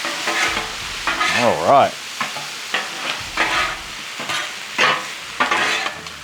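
Sausage and potatoes frying in a pan, stirred with scraping strokes over a steady sizzle, while someone talks briefly.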